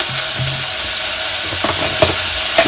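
Vegetables frying in a pan while spicy Maggi noodles are being prepared: a steady broadband sizzle runs throughout, with a few soft clinks and stirring scrapes near the end.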